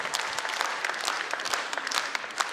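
An audience at a Kyrgyz talent concert in Suzak applauds a young performer, dense steady clapping filling the hall at moderate loudness without voices.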